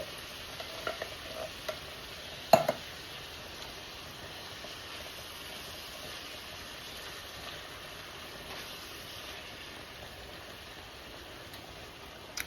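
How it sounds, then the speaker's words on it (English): Onions cooking down in a pan for a casserole, a faint steady sizzle throughout with a few soft utensil clinks near the start and no talking. "I'm going to let these onions cook down for a little bit"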